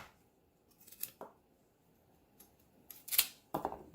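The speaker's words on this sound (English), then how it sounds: "And then when you're done, you just cut off the edges." Scissors snip off the edges of a wrapped package while Jamaican callaloo and salt fish are prepared, giving several crisp, close cuts spaced irregularly across a quiet kitchen.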